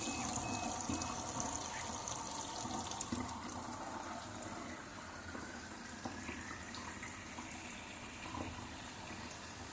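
Warm water from an instantaneous flow-through water heater runs steadily from a tap, a continuous close splashing rush that holds at a constant level throughout.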